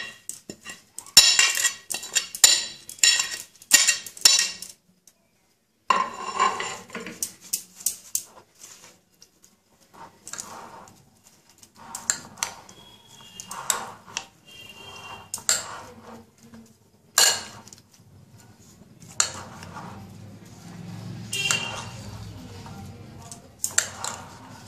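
A spoon clinks and scrapes around a bowl while aloo kabli, potato with chopped chili and coriander leaves, is mixed, giving bursts of rhythmic metallic tapping separated by pauses, with a dog whimpering and a voice speaking at times.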